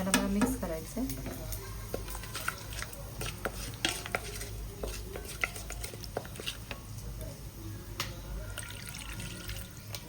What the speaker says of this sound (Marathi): याला मला मिक्स करायचं आहे